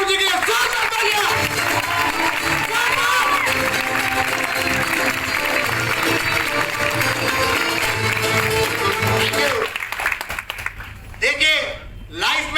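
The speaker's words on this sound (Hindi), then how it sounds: "एक बार दिल से नरेंद्र बागरू जी के लिए जोरदार तालियां।" An audience gives a speaker's mentor a dense, sustained round of clapping that stays loud for about ten seconds, then thins into scattered claps and voices.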